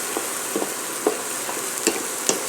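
Onions sizzle steadily in an oiled skillet, with a spoon scraping and stirring in regular strokes through the continuous frying hiss.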